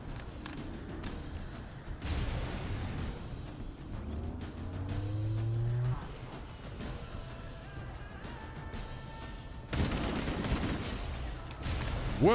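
Grenade blasts and gunfire in the Halo Campaign Evolved video game, a dense run of loud explosive bursts with rumbling low booms and gunfire crackle throughout, the heaviest surges near the start and toward the end.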